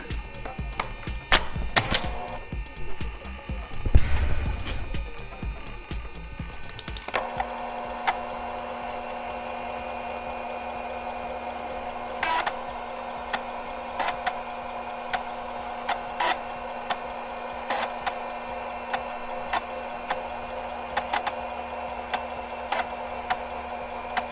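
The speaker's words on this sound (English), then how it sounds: "Let me remind you another nice sound. Look at this floppy drive." Floppy disk drive in a 1999 IBM ThinkPad 390 laptop whirs with a steady hum and periodic small clicks and ticks, preceded by a few seconds of louder rustling handling noise.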